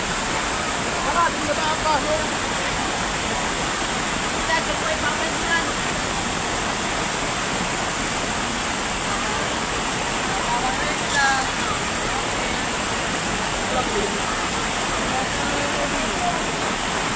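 Rushing floodwater pours through a flooded planted field, a steady broadband roar like a waterfall that holds across the whole stretch, with occasional faint voices underneath.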